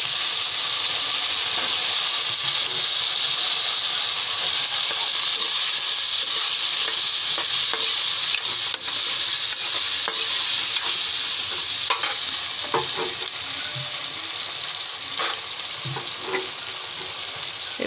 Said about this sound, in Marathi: यात टाकू आपण आपले वांगे आणि सगळं व्हेज भाजी।